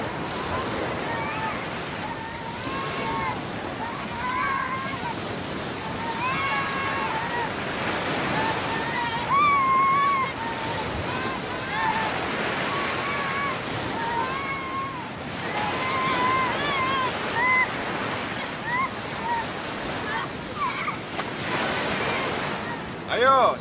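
Steady roar of ocean surf with wind noise, under voices calling and shouting over the waves.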